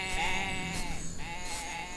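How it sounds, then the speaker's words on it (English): Goats in a video game bleat in a quick run of wavering, nasal calls, loud and close, repeating over a steady ambient background with no talk. "At least the goats and the beasts seem to live in harmony."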